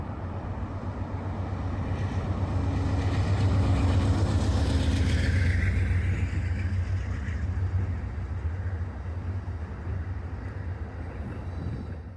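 MBTA switcher locomotive 1137 on the Worcester Main Line hauling HSP 46 locomotive 2002 and two wash-train cars in December, a steady deep diesel rumble with rolling wheel noise passing close by, swelling and then easing off.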